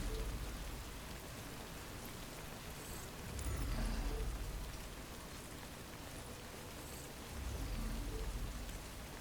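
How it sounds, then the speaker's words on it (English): Steady rain falls in the video game Death Stranding, an even hiss of drops on surfaces with a couple of swelling gusts, no voices on top. "Probably shouldn't sleep in the rain."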